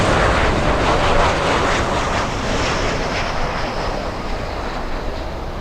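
A jet airliner on final approach to runway 12 at Miami International Airport, heard as a loud, continuous broadband engine roar that fades slightly over several seconds, with no talking.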